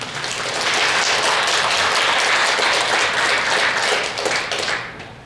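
A church congregation at a Sunday service gives dense, sustained applause that swells quickly, holds at full volume for several seconds and then tapers off toward the end.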